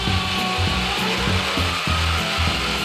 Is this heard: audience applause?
no